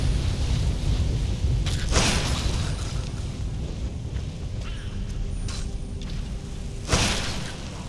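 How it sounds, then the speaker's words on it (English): Fire spell igniting the floor in Skyrim's Blackreach: a low, sustained roaring rumble with whooshing flares, two sharp bursts standing out near the start and toward the end, no talking. "Right, I'm just gonna set fire to the floor."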